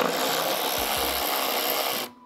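A ratchet with a short extension working a 10 mm bolt on the engine of a 2000 BMW 740i Sport E38 gives a steady, close, continuous mechanical rasping for about two seconds, then stops abruptly.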